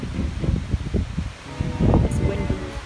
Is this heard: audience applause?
no